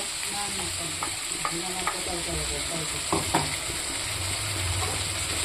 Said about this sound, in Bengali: মশলাটা দিয়ে একটু সময় কষাবো।